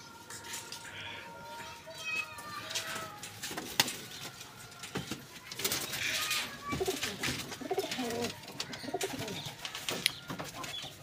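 Shirazi pigeons coo softly and repeatedly amid a busy background of other bird chatter and rustling, with faint voices nearby.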